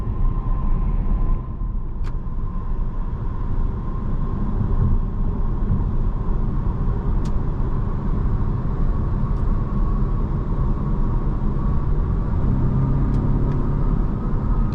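Steady low road rumble and engine drone inside a 2024 Volvo S60 T8 Recharge Plus plug-in hybrid as it accelerates, loud and continuous with faint tyre and wind noise and a few small clicks.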